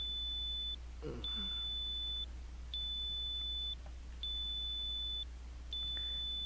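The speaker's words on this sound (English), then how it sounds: "noticed that his PDA was beeping in his pocket" A PDA in a video game gives repeated short electronic beeps, four or five evenly spaced high tones over a low steady hum, with a brief soft sound in between.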